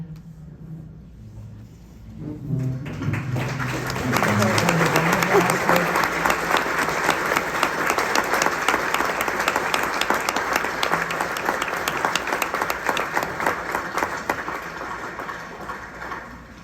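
A large crowd at a war memorial in Michigan breaks into loud, sustained applause for veterans and active military, swelling after a quiet start and continuing as dense clapping for over ten seconds.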